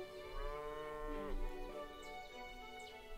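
Cattle low in the farming game Everdream Valley, a drawn-out bovine moo with rich harmonics sliding downward, alone against a quiet backdrop with faint chirps.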